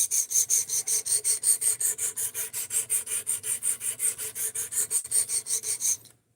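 Knife blade stroked on a dry diamond sharpening plate set at a 17-degree guide rod angle: rapid, even rasping strokes repeat in a steady rhythm, close and fairly quiet, stopping abruptly at the end.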